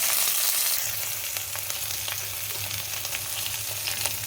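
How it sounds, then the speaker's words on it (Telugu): Onions, green chillies, ginger and curry leaves fry in hot oil for a poha-idli upma. A close, steady sizzle starts loudest, then settles into an even crackle with faint stirring and no speech. "ఇప్పుడు ఇందులో ఉల్లిపాయలు పచ్చిమిరపకాయ అల్లం కరివేపాకు వేసి"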